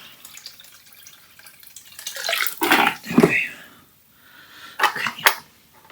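Water, grey and muddy, sloshes and splashes in bursts as something is scrubbed and swirled in a tub, with quiet pauses between the movements.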